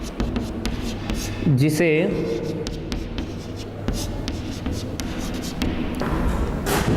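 Pen scratching on paper during a handwritten maths lesson, soft continuous strokes running under a teacher's steady speech.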